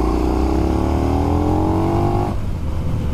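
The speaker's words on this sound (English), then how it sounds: "Now, if I was to give this a bit of a handful," A 2020 KTM Super Duke R 1290 motorcycle accelerates hard in third gear from around 3,000 revs, its loud engine note climbing steadily for about two seconds before cutting off abruptly.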